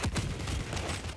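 Rapid machine gun fire in the arena shooter Quake rattles in a short, steady burst at moderate volume.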